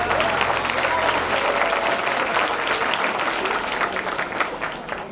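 A Hindi comedy poetry audience bursts into sustained, dense applause, a loud steady wash of many hands clapping for several seconds, fading slightly toward the end.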